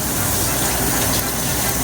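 Two cups of hot water pour into a pan for chile relleno sauce, a steady, loud gushing splash that runs unbroken and close for about two seconds.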